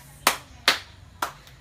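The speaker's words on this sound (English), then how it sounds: "Now let's give everyone a round of applause." A classroom gives a round of applause, heard here as just three sharp, separate claps spaced irregularly over quiet room tone, with no talking.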